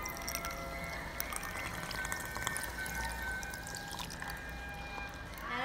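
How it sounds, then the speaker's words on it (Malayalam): Water is poured into a jar of kiwi for juice, a soft, continuous splashing trickle with faint drips, close and fairly quiet, rising slightly at the end. "വെള്ളം ഒഴിച്ചു കൊടുക്കാം."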